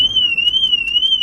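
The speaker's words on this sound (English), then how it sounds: "Oh my god, I just set the car alarm off." A car alarm sounds steadily with a continuous high-pitched wailing tone that wavers slightly, loud and close, with faint pulsing bursts and no talking.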